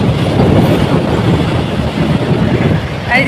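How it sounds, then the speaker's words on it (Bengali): A train rolls past close by near a rural village road, a loud, continuous rumble and clatter of wheels filling the whole stretch. "ট্রেন যাচ্ছে গাইস ট্রেন"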